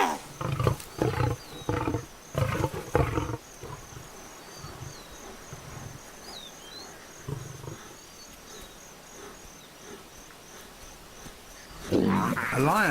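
A lioness clashes with hyenas in the wild, with loud close bursts of roaring and snarling in the first few seconds, then a quieter stretch of insect buzz before another growling outburst near the end.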